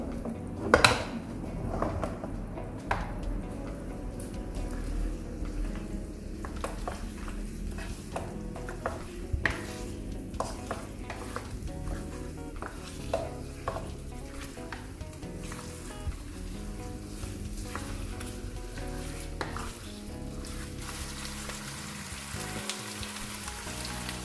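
Chicken, one kilo, frying fast in hot onions in a pan, a continuous sizzle with scattered clinks and scrapes of a utensil against the pan throughout.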